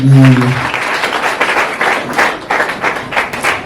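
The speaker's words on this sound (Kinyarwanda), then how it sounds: "Reka tumukorere amashyi cyane." Church congregation applauding after a pastor's ceremony, a dense wash of clapping that follows a brief low voice at the start and carries on steadily with uneven swells.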